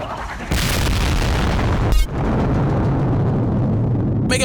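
An anime explosion blasts a sanctuary apart, opening with a sudden loud boom followed by a sustained rumbling roar, a second sharp blast midway and continued heavy rumble.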